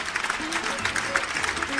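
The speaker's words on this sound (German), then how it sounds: "Jetzt gibt es natürlich einen tosenden Applaus." A small audience applauds at a talk in the Dortmunder U art museum, a steady, moderate wash of clapping with voices faintly talking underneath throughout.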